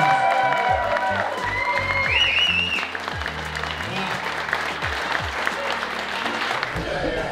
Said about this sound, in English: Give them a really good applause.